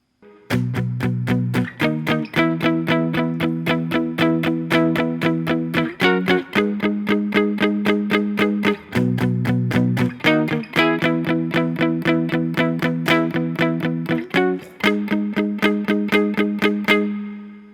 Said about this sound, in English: We're just going to be palm muting. It sounds like this.